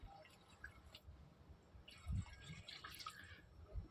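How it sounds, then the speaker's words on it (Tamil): Water is poured into a pan of country chicken gravy as it cooks, giving a faint, soft trickling and splashing that swells briefly midway, with no talking. "இப்போ கிரேவிக்கு த தகுந்த மாதிரி தண்ணி ஊற்றிக்கலாம்"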